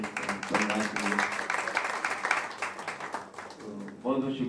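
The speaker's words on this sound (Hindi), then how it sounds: "सो ज़ोरदार तालियां बजा दीजिए परिवार के लिए" A crowd at a song launch event claps continuously while a voice talks over the applause.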